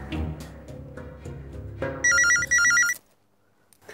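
An electronic phone ringtone trills in two quick bursts and then stops, following a stretch of soft background music.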